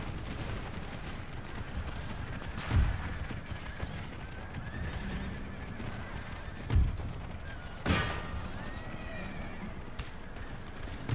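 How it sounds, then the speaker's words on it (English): Enemy mortar rounds land in an Empire: Total War battle, three heavy thumping impacts spaced a few seconds apart over a busy field din of horses and distant combat. "Why are enemy mortars allowed to be so damn accurate?"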